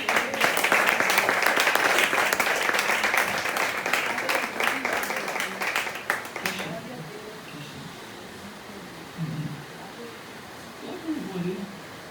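A church congregation claps and cheers loudly for several seconds in praise, then the applause dies away into quieter room murmur.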